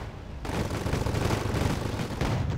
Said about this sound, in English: Using a machine gun, a quad machine gun actually. And 23mm cannons to try and do damage.